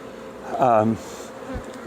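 Honeybees during a horizontal hive inspection give off one short, close buzz lasting about half a second, with faint background noise before and after.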